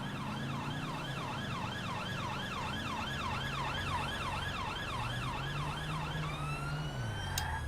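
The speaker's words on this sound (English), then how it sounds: "Oh, I can hear sirens." Emergency sirens wail inside a roleplay video game, with two rising-and-falling tones sweeping steadily and continuously at a loud level over a low engine drone, shifting pitch near the end as the vehicle passes.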